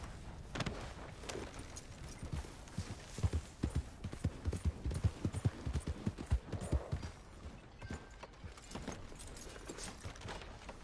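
A horse's hooves clip-clop in a quick, steady rhythm while riding in the Red Dead Redemption 2 game, with faint tack jingling and no voices.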